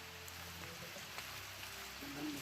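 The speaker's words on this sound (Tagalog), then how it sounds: "lumakas yung ulan tol" Heavy rain pours down steadily outdoors, a dense, even hiss of drops on surfaces that holds at constant loudness throughout, with a brief low tone near the end.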